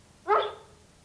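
A farm dog gives a single sharp, close bark that rings out clearly and fades quickly into quiet.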